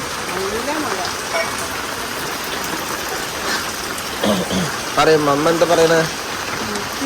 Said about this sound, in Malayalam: മഴ പെയ്ത് മഴയുണ്ട്